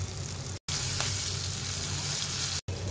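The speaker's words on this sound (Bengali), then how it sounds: "কুটিং করা উইংসগুলো এখন আমার বেজে নেওয়ার পালা। মিডিয়াম আছে, আমি এখন এই উইংসগুলো বেজে নেব।" Cut chicken wings fry in oil over medium heat, producing a dense, even hiss of sizzling that continues throughout at moderate volume.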